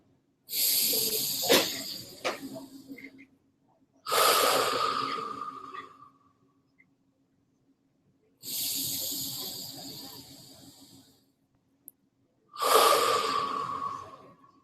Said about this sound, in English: Now let's take 3 breaths together